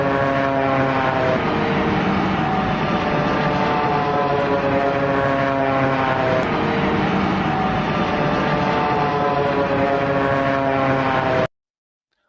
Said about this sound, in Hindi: एक जापान एयरलाइन का विमान इसी तरह की आवाज के साथ लैंड हुआ था, और उसमें भी रैम एयर टरबाइन खुला हुआ था।